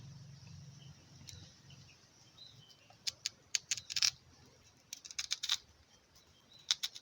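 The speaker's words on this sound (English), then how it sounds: "You cut off the tail, cut off the head." A knife cuts through the peel of a green plantain in short, sharp crisp clicks and snaps, clustered in quick bursts with quiet gaps, faint and close.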